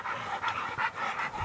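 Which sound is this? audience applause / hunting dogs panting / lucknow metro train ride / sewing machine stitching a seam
hunting dogs panting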